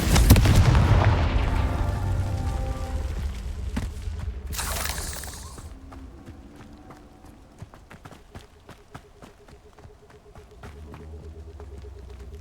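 Confringo fire-spell explosions in the video game Hogwarts Legacy: a loud booming blast at the start, a second whooshing burst midway, then sparse crackling clicks and pops fading out.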